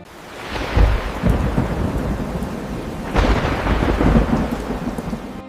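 Steady heavy rain pours down while thunder rumbles loudly twice, the rolls swelling and fading over the downpour.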